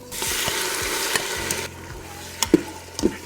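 Garlic frying in oil inside an Instant Pot, a steady close sizzle with a few sharp stirring knocks near the end, no voices.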